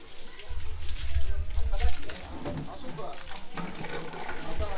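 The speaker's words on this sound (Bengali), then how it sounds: "এটাই কিন্তু পাহাড় থেকে কিন্তু বয়ে আসছে এই ঝর্ণার জল" A hill stream flows down from Susunia Pahar in Bankura where people bathe, giving a steady, fairly loud rush and slosh of water beneath a low rumble, with voices talking over it throughout.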